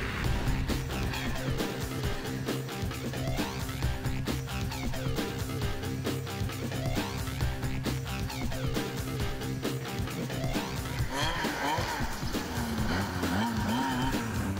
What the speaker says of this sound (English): Today I was out on the Yamaha XTX for 2016, and I spent quite a bit of time riding this model.